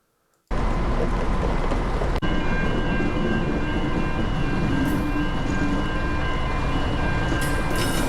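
A locomotive moves toward a workshop, its rumbling rail noise starting abruptly and holding steady and loud, with a sharp clank early on and faint high squeals later.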